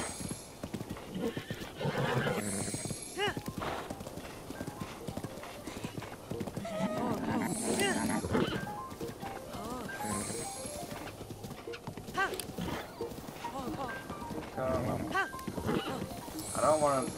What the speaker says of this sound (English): I don't know what I want to call this horse